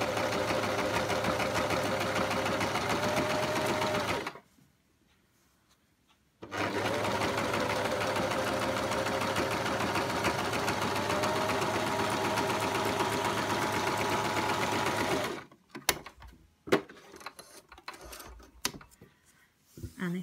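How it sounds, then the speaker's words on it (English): A sewing machine runs a straight top stitch on piping with a piping foot, humming steadily and close, pausing briefly mid-run before starting again and then stopping with a few clicks at the end. "we're just ready to sew on with a straight stitch"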